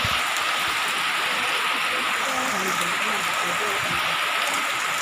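Steady rain pours around a bicycle ride in the wet, a dense, even hiss of drops hitting surfaces close by, constant from start to finish with faint low rumbles beneath.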